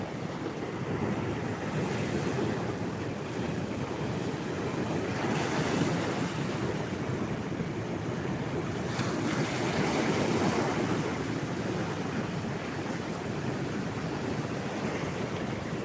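Surf washing onto a Gulf beach near rocks, a steady broadband roar with swelling waves around six and ten seconds, mixed with wind buffeting the microphone and no voices.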